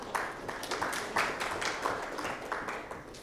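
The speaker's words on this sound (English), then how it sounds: "Let's clap for the moderator." An audience at a strategic dialogue on tax and domestic resource mobilization claps for the moderator, a soft, moderate round of applause with uneven hand claps.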